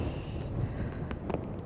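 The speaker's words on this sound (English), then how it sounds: "The wind is picking up, but it's kind of coming in waves, this wind." Wind gusts steadily across open water on a small fishing boat at sea, a dense rushing roar that swells unevenly through the moment with no voices.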